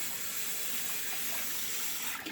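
Hot water runs from a tap for hand washing as a steady, close hiss that continues without a break, with nothing else heard over it.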